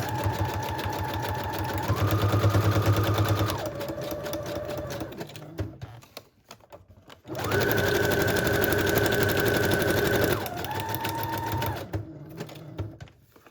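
A sewing machine stitches a vellum envelope in two loud, sustained bursts of rapid mechanical whirring that change pitch as the speed shifts, separated by a short quiet pause.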